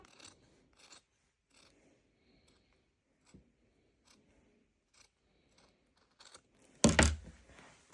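Sewing scissors cutting paper while preparing flip flop soles for slippers, heard as scattered soft snips and rasps that build to a louder, close cutting burst near the end, with no voices.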